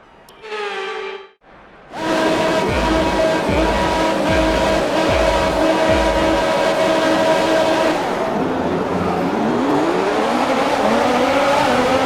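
F1 race cars roar past in the F1 2021 video game at the French Grand Prix, a loud sustained engine howl with pulsing revs after a brief opening tone, then shifting gears as the pack moves on.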